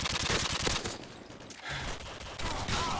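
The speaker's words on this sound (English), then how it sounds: "Who's shooting at me?" Rapid bursts of automatic gunfire from the video game Modern Warfare 2 on Xbox 360, dense and continuous across the whole clip with brief dips between volleys.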